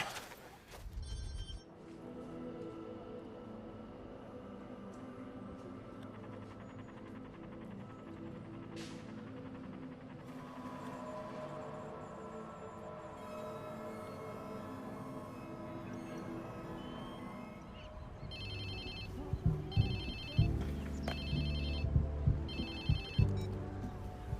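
A phone rings in the video game Watch_Dogs 2, a repeating electronic ring in short bursts over a steady low hum and ambient game sound.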